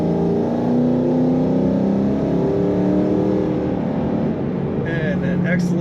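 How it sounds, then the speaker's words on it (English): A 2006 Ford Mustang GT idles and revs, its V8 exhaust a steady throaty rumble with rising and falling tones, heard up close and continuously, with a few faint knocks near the end. "Great exhaust sound, snappy throttle response that revs up nice and quick."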